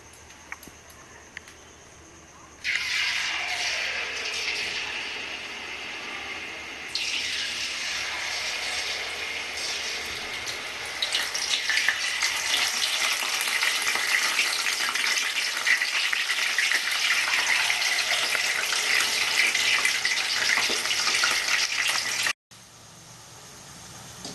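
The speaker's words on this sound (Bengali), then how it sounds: "ততক্ষণে আমি আরও একবার জিলাপিটা ভাজতে থাকবো" Jalebi coils frying in hot oil for a Bengali-style recipe, with a steady hissing bubble that swells in stages as more batter goes in, then cuts off abruptly near the end.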